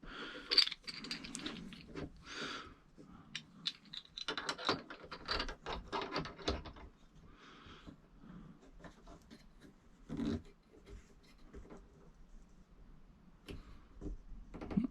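A clamp is tightened on a glued, broken Ikea drawer's wood, giving quiet ratcheting clicks and mechanical creaks in irregular bursts, faint and close, with scattered handling noises between turns.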